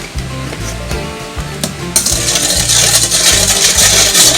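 Sugar and shallots stirred in a pan with lime juice for a Thai snakehead fish dish: steady sizzling with stirring scrapes, growing louder and busier partway through, with no talking.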